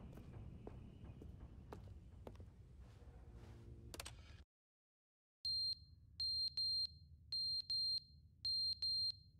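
Repeated short electronic beeps from a smoke alarm going off inside The Stanley Parable video game, following a stretch of dim ambient room noise and a brief silence.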